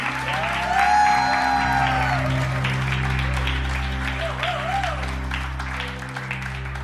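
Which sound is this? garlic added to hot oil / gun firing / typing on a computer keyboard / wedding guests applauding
wedding guests applauding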